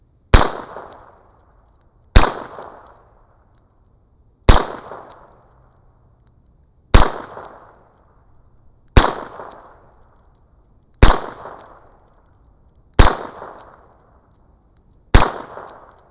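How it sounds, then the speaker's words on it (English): Eight single shots from a blued Rock Island Armory AL22B .22 long rifle revolver, each ringing off a 3-inch steel mini gong, spaced about two seconds apart, loud and sharp with a short metallic ring fading after every hit. "It's always fun shooting at that little 3-inch mini gong."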